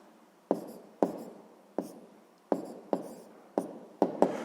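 Pen strokes on paper while working a sixth-grade math exercise: about nine distinct scratchy taps and short scribbles at an irregular pace, close and fairly quiet, with no talking.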